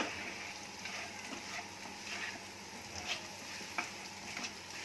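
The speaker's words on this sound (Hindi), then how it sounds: "अब इनको अच्छे से मिक्स करेंगे" Spices being stirred into dahi arbi (taro root in yogurt) in a pan, a soft, steady sizzle with occasional scraping clicks of the spoon, quiet and close with no talking.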